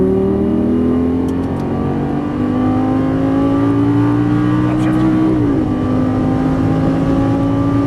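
Lamborghini Gallardo LP550-2 engine pulling hard on a race track, a loud steady rising drone that climbs in pitch, dips briefly at a gear change, then keeps building under continuous throttle.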